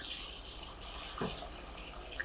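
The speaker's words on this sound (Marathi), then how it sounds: "आता पाणी घालते" Water pours into a pot of onion and tomato for sambar in a steady, soft stream with a faint splash partway through, quiet and close.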